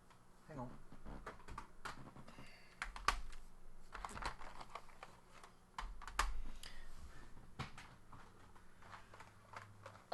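Keys are pressed on a computer keyboard during a PS1 gaming session, with scattered clicks and taps and some clunky knocks, mixed in with background talking.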